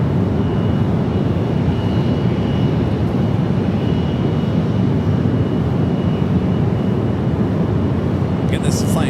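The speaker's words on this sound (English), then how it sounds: "Again, this is flight 738 heading back to Doha, the A350-1000." A Qatar-bound Airbus A350-1000 jet airliner roars steadily at San Francisco airport, a loud broadband engine rumble holding throughout with a faint bird chirp near the end.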